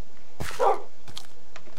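Dogs barking in the video game Minecraft: a couple of short, sharp barks close by, the first one loudest, followed by a few fainter yips against a quiet background.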